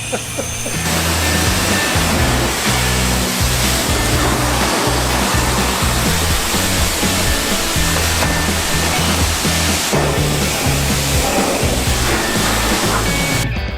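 Water sprays steadily onto a muddy Can-Am off-road vehicle, a loud continuous rushing hiss with splashing that barely varies.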